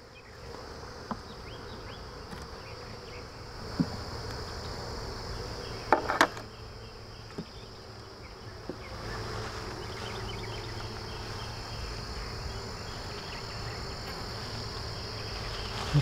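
Honey bees swarm with a steady, close buzzing drone in an open hive during an inspection, broken by a few light knocks and handling clicks.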